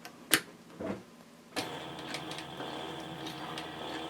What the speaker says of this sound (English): I'm actually going to stitch backwards for a few stitches